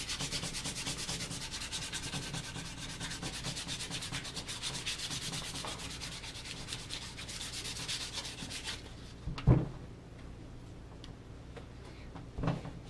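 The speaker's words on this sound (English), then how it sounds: "we want to light sand it with our 220" Light hand sanding of wood with 220 grit sandpaper, a steady close rubbing hiss for most of the clip before it stops, followed by two sharp knocks.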